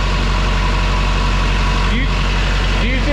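Diesel truck engine running after being misfueled with gasoline, a loud, steady close-up idle with a deep rumble, and faint voices heard underneath.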